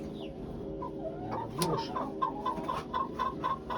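A broody hen clucks close by on a farm, with repeated short, soft clucks that come in a loose rhythm and grow more regular toward the end.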